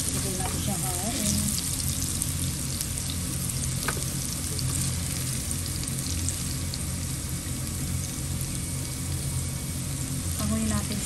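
Chicken sizzles and fries steadily in a hot pan for a cheesy chicken caldereta, with a dense continuous crackle and occasional stirring clinks close by, no voices.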